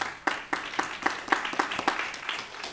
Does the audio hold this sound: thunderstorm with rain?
no